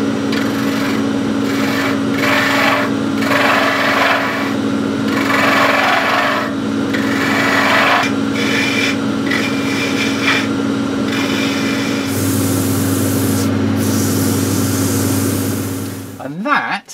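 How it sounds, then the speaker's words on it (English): Continuous loud grinding hum of a spinning machine with a tool rasping against wood in repeated strokes, the pitch dropping as it winds down at the end. "Unlike metal turning, wood turning's a lot messier and a lot noisier"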